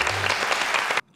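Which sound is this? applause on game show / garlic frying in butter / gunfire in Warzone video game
applause on game show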